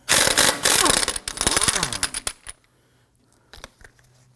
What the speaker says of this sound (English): we're going to loosen and remove our lug nuts